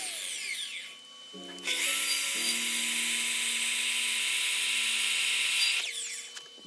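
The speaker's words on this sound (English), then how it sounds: "we'll router, put a nice chamfer on the edge of this" A handheld router cuts a chamfer along the edge of an oak board, with a short spin-up whine, then a loud steady cutting drone that holds for several seconds before winding down.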